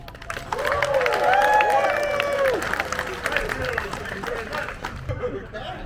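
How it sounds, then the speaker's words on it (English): At the Ohio Renaissance Festival's mud show Beowulf, a crowd breaks into loud applause mixed with whoops and cheers, swelling quickly and then tapering while voices chatter over it. "A great round of applause for Beowulf"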